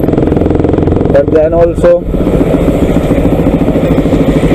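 Pulsar 200 NS motorcycle with an aftermarket exhaust and the dB killer removed, idling with a loud, steady burbling drone; a brief blip of revs rises early on, and someone talks over the engine.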